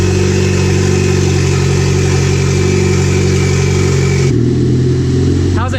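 A Chevrolet Cobalt SS fitted with a 6262 turbo idles loud and close while warming up, a steady heavy engine drone that drops in pitch near the end before a brief rising rev.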